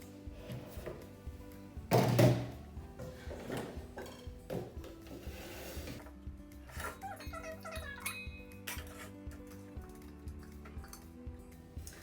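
A mixing bowl is fetched and set down in a home kitchen while baking vegan chocolate chip cookies, with one loud clunk early on followed by lighter clinks and handling noises, no voices.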